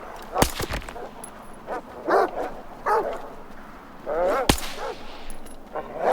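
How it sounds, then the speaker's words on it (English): Dogs barking in the video game STALKER 2, several separate barks and yips spaced over a few seconds, with two sharp gunshot-like cracks and a faint ambient game background. "I see rats, and I hear dogs."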